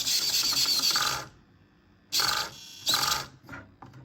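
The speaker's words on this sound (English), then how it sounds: "Check out the speed of the servo." Steering servo on a GMADE GS02F Spider portal rock crawler kit running on 7.2 volts, three quick whirring bursts, the first about a second long and the others shorter, close up with quiet gaps between them.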